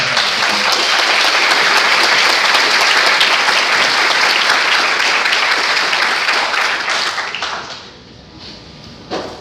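Audience at a financial-education talk breaking into loud, sustained applause, dense clapping from a large crowd that holds for several seconds before thinning out near the end.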